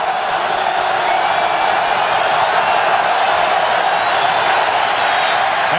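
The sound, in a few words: football stadium crowd noise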